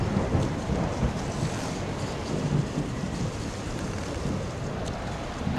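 A violent storm with thunder rumbles and churning wind-driven rain, a dense, continuous roar holding steady at moderate loudness throughout, with no voices.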